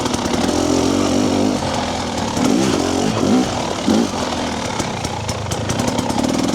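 A fuel-injected motorcycle fitted with a TSP ERM lugs along at low revs. The engine chugs coarsely and continuously, with a few brief swells in load, and no one talks over it.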